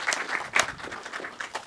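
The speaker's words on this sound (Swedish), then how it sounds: "En applåd." A conference audience at a Swedish talk on patient participation in healthcare gives a short, sparse round of applause welcoming a speaker, with a few distinct claps standing out over a thin patter of hands.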